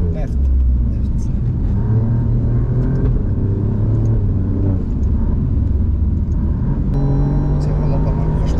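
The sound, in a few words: race car engine on a circuit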